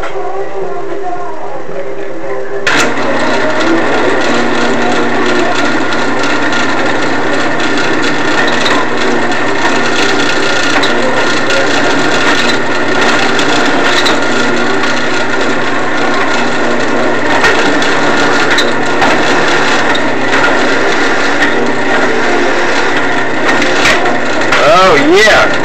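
A power drill bores a half-inch hole while making dirt bike bark buster clamps. A loud, continuous grinding whine starts abruptly after a quiet opening and runs steadily to the end.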